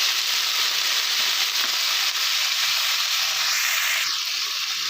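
Chopped onion stalks drop into potatoes frying in a pan, giving a loud, steady close sizzle and hiss with faint stirring.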